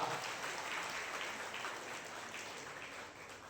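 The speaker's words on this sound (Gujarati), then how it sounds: "તમે તાળી નથી વાગતા." An audience at a student felicitation and notebook distribution event claps in a steady, moderately faint round of applause that fades slightly toward the end.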